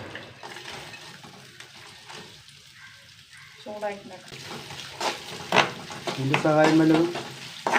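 Crackling frying of coconut pieces in a pan with stirring and scraping, growing louder toward the end, with voices talking over it and a brief tonal whine.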